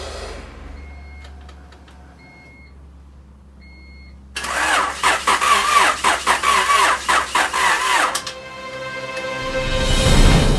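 The turbo EF Honda Civic, woken after ten years of sitting, cranks over on a weak battery: a quiet electrical hum, then about four seconds of laboured, uneven starter churning that stops without catching, followed by a rising hiss.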